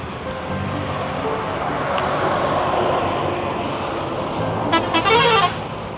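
Buses and other vehicles speed along a highway between Borivali and Mahad in the Konkan, a continuous loud roar of traffic with a short burst of horn honking near the end.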